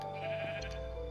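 A sheep bleats in Minecraft on PlayStation 4, a short single call over steady game background sounds with no talking.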